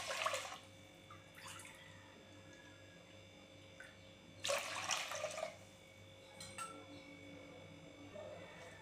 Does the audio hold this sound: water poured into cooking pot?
yes